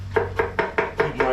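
A knife slicing pickled cucumber into rings on a board, six quick, evenly spaced, close chops in rapid succession, no voices.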